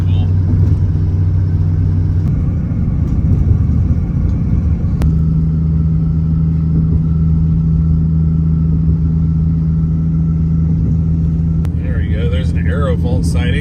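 A vehicle cruising toward the Chesapeake Bay Bridge, westbound on the U.S. East Coast: a steady, loud low engine and road rumble with a constant hum, a couple of sharp clicks and a brief rattle near the end.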